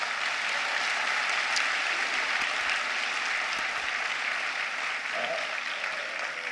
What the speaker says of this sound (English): big round of applause once again